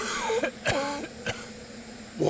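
In an audio drama, a drunk man coughs after breathing in smoke, giving a few sharp, separate hacking coughs and throat-clearing sounds up close, with a strained vocal edge between them.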